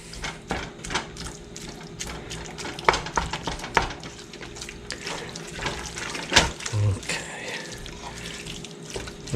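Canned pork butt cooks in a pot with a soft sizzle, while a spoon scrapes and clatters in an irregular rhythm and some water and kitchen clatter sound nearby.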